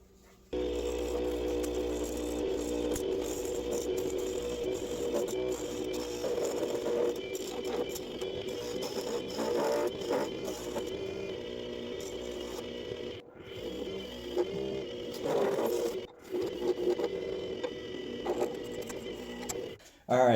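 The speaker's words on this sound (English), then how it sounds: "got it on the wood screw, worm screw, excuse me, and got it on the lathe" A wood lathe turns a resin and walnut bowl mounted on a worm screw, a steady close mechanical hum with rattling and scraping texture, broken by a couple of brief stops near the end.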